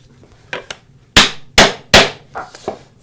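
A leather-faced hammer taps wooden miter spline joinery together: a few light knocks, then three loud, sharp strikes in steady succession, followed by two softer taps, close by with no talking.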